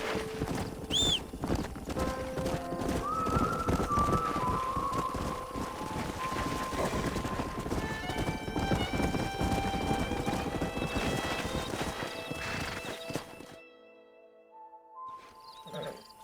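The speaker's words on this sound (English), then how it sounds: "We got some fine horses." Horses in the Red Dead Redemption video game neigh and whinny over a steady run of hooves clip-clopping close by, with a soft wind in the background, before the sound drops away near the end.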